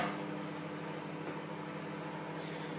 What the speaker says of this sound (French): Et on met ça au micro-ondes.